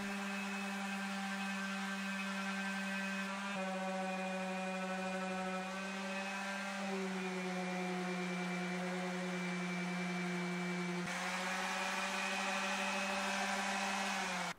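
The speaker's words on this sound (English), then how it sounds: "fully fine sand the inside edges of the horns, because they are easy to reach with an orbital sander right now" An orbital sander runs continuously on the horns of a custom bass guitar body during fine sanding, giving a steady loud whine with strong harmonic tones that shift slightly in pitch a few times as pressure changes.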